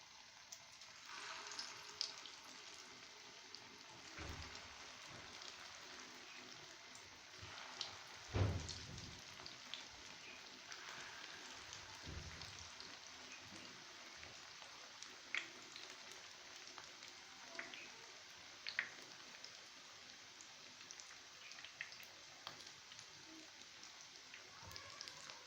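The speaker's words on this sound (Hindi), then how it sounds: "मीडियम हीट पे हमने इनको तलना है।" Potato seekh kebabs fry over medium heat in hot oil, giving a steady, soft crackling hiss like light rain that runs throughout with a few faint pops and knocks.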